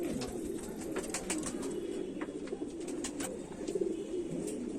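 A Kamagar pigeon gives low, throaty coos over several seconds, close and fairly quiet, mixed with scattered small clicks and chirps.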